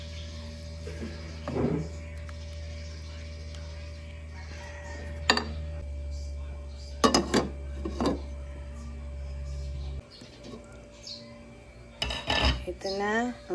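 A spoon stirs thickening couscous in a pot, giving a handful of short scraping rasps against the pot at uneven intervals over a low steady hum, with quiet gaps between strokes.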